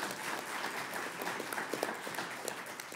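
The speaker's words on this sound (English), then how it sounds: "Let's give them all a big round of applause." Audience at a Denver city council candidate forum applauds the candidates, giving a sustained, even wash of many hands clapping from a mid-sized crowd, moderately distant and without talk.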